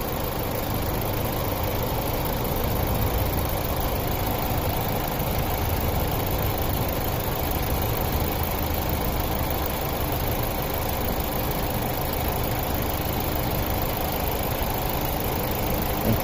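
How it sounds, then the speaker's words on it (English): A 2005 Saturn Ion 2.2-litre engine idles smoothly and steadily, a continuous even hum with a low rumble that never changes pace, with no one talking. "Seems to be idling pretty smooth."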